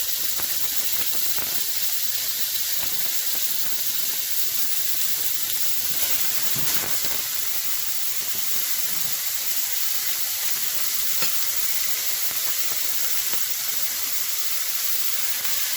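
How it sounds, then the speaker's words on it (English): Ground hamburger meat frying in olive oil in a pan over medium heat for chili, giving a steady, loud sizzling hiss with no talk. "I'm just going to put all my hamburger in there, get that started."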